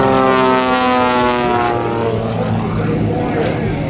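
An aerobatic propeller plane flies stunts at the 2009 AirPower Over Hampton Roads air show over Langley Air Force Base. Its engine gives a loud, continuous, tonal drone that stays steady and close throughout.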